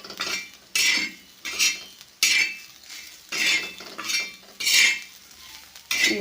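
Karchikai (karjikai) pastries being roasted and turned in a salted pan with a utensil: repeated bursts of scraping and clinking, about eight strokes in a steady rhythm, close and fairly loud, with no one talking.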